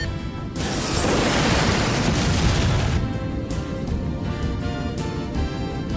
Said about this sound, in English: A flash from the enemy ship! It's their plasma cannon!